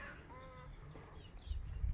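Chickens from a portable chicken tractor make soft clucks and a short drawn-out call in a backyard vegetable garden, fairly faint, followed by a few low bumps near the end.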